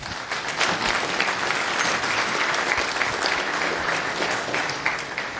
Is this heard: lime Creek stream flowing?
no